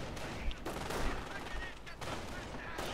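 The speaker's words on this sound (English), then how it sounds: "Ah, he got another HMG team there." Heavy machine gun fire crackles in a World War II strategy game, a dense, continuous burst of rapid shots over the battle din.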